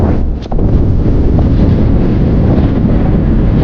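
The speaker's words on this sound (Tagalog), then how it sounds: "Lakas ng hangin, oh." Strong wind on Gulugod Baboy mountain in Mabini, Batangas buffets the microphone in a loud, constant roar with no voices.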